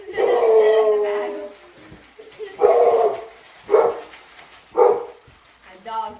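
Dogs bark in a run of loud, close barks, a long one followed by several shorter separate barks with gaps between them.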